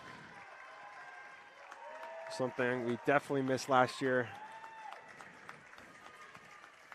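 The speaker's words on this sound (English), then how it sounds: "You can hear all the clap around me. Everyone supporting her," Spectators at a high school swim meet clap and cheer as a low, steady background wash, mostly under a commentator talking up close.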